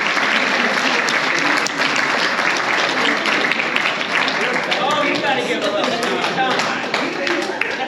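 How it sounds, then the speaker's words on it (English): An audience at a haunt industry convention applauds a lifetime achievement award with loud, continuous clapping, while voices talk and call out over the applause throughout. "Oh, you gotta give a little applause."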